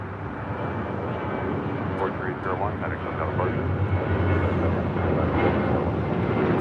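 An American Airlines Airbus A321 jet arriving at LAX from JFK gives off a steady, fairly loud engine roar and broadband rush that swells slightly toward the end, with voices talking over the noise.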